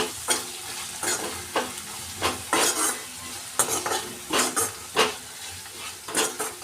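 Tomato with red chili powder, turmeric, salt and masala sizzles in a pan, with a spoon scraping and stirring in repeated sharp strokes over a steady frying hiss; no talking.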